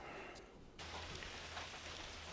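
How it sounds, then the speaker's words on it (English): Rain falls steadily outdoors near a covered pavilion, a soft continuous hiss of drops that grows fuller after a moment, heard from fairly close at low volume. "so the rain is back, but we're under the pavilion"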